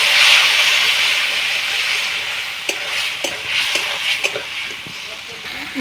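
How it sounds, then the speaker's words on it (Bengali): Spice masala with turmeric and red chilli powder frying in a pan for katla fish curry, a loud steady hiss with a run of sharp spoon scrapes and knocks in the second half. "মশলা ধোয়া জলটা দিয়ে আরও কষিয়ে নেব কিছুক্ষণ।"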